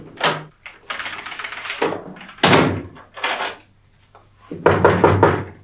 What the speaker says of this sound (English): come in and lock the door.